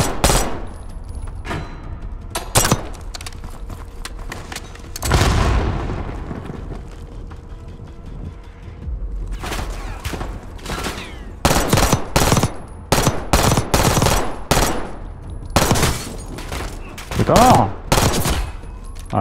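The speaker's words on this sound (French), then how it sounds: "Elle est bien la petite mitraillette là" Compact 92 submachine gun fire in the Call of Duty Black Ops 6 campaign, loud close bursts of rapid shots in several clusters, with a heavy explosion-like boom early on and quieter gaps between volleys.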